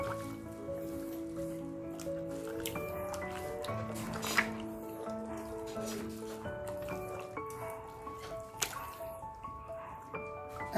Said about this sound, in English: give this a good mix after that. So that all the spices and the flavors can sink in.